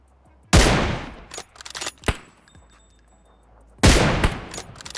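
Loud sharp rifle shots in a PUBG Mobile battle-royale match, two big cracks a few seconds apart with fainter pops and clicks between them, heard alone without talk.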